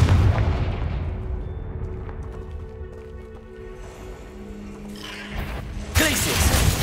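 A Confringo fire-blast spell cast in Hogwarts Legacy lets out a booming burst followed by a fading rumble, with later sharp crackling impacts and game effects in the background.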